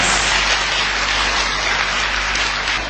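Church congregation clapping together, a dense, steady wash of applause that fills the space without pause or break from start to finish.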